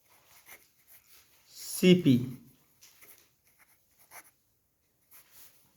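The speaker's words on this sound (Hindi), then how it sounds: "तो एक क्वेश्चन लिखेंगे" Pen strokes scratch softly across paper as a question is written by hand, close and quiet, in short intermittent bursts with one louder scrape partway through.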